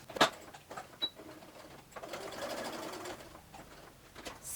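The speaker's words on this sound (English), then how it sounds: "I'm going to take a few stitches and then I'll back stitch a couple" A sewing machine stitches fabric seams for homemade hand warmers, a quiet whirring run with brief starts and stops and a few sharp clicks, heard close and alone.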